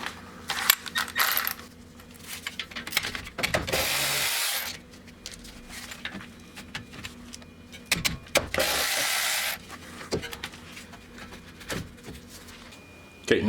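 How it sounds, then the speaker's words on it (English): Ratchet wrench loosening the two 14 mm caliper guide pin bolts on a 2017-2018 Toyota Corolla iM front brake, giving two bursts of rapid clicking ratcheting among scattered metallic clanks and handling noises. "now we're going to go ahead and take off the two bolts for the caliper guide pins"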